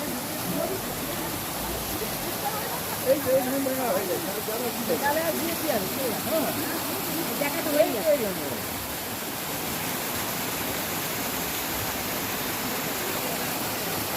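Water rushing steadily at Rock Garden in Darjeeling, a broad continuous roar of flowing water with people talking over it in the middle stretch.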